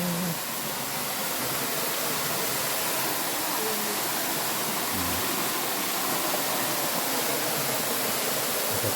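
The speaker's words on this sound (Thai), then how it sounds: "น้ำตกจะทะลุลงมาจากรู" A cave waterfall in Thailand pours down through a hole in the rock, making a steady, dense roaring wash of water that fills the space without pause.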